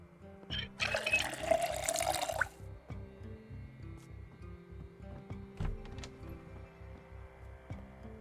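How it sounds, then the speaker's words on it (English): A water bottle fills at a tap in Project Zomboid, a loud hissing rush of running water lasting about a second and a half, followed by a steady, soft rhythmic background pulse. "Fill our water bottle back up."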